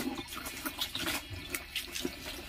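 Water poured and splashed over a dog being bathed, an uneven run of gushes and splashes at moderate level with no one speaking.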